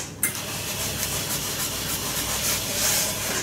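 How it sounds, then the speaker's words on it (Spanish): A steam iron presses fabric while sewing a cloth handle with fusible interfacing, giving a steady close hiss of steam and soft rubbing of the iron over the cloth after a brief opening burst. "Y con la plancha, en este caso, utilizaremos vapor"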